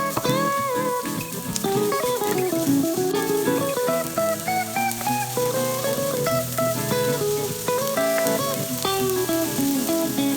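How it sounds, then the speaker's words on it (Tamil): Onion and green chilli sautéing in hot oil for chicken fried rice, a loud, steady sizzle that runs throughout, heard close up under background music and without speech. "அதில் கொஞ்சம் எண்ணெய் ஊற்றி வெங்காயம், பச்சை மிளகாய் இந்த ரெண்டையும் முதல்ல வதக்கிக்கலாம்"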